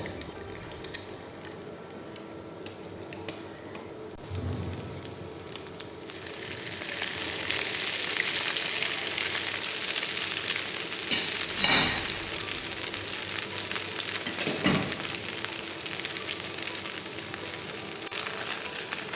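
A German potato pancake cooks slowly in a pan, giving a steady soft sizzle that swells and holds, with a few faint clinks and scrapes breaking through.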